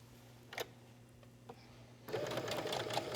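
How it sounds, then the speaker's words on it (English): A sewing machine stitches through quilted foam for a tablet cover at a slightly lengthened stitch, first a few isolated clicks, then a steady close mechanical whir starting partway through and running to the end. "I increase my stitch length, just a little bit to compensate for the thickness of the foam. And let's go ahead and stitch."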